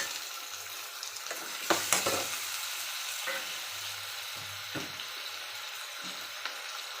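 Two tomatoes frying in a pan for mutton sukka, a low steady sizzle with several sharp spoon scrapes and clinks against the pan as they are stirred, close and fairly quiet, no talking.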